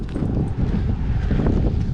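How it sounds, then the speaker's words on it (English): Strong gusts of wind buffet the microphone outdoors, a continuous low rumbling rush with uneven surges. "Windy."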